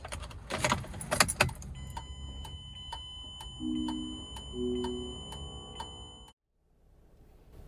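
Keys jangle loudly in the ignition of a 2010 Mazda 3, then steady electronic dash chimes and ticking tones sound for several seconds before cutting off abruptly into near silence.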